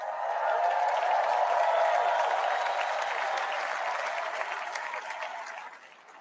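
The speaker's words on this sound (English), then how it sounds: "look at these crowds" A large political rally crowd applauds steadily and loudly, a dense wash of clapping that holds for several seconds before thinning slightly toward the end.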